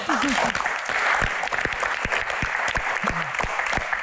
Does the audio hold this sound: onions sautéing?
no